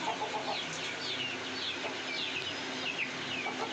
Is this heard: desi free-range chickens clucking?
yes